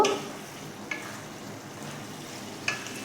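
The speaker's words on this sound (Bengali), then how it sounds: "আর তার সাথে একটু ঘি দিয়ে দিলাম ভালো করে মিশিয়ে নেব" Keema curry with ghee added is stirred in a pan, giving a steady low sizzle with a couple of brief spoon scrapes against the pan, close and fairly quiet.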